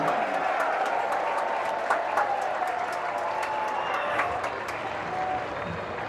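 Crowd applauding the men's Callahan Award finalists at a college ultimate frisbee championship, continuous moderately loud clapping with a crowd murmur underneath that eases off slightly toward the end.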